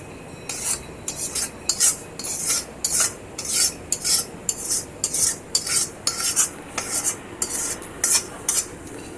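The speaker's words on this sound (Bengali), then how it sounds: "আমি এই আচারটা এবারে অন্য একটা পাত্রের মধ্যে ঢেলে নেব" Amla pickle scraped and poured from a cooking pot into another container, with a repeated rhythmic series of bright metallic spoon scrapes and clinks against the vessel, close and fairly steady, no talking.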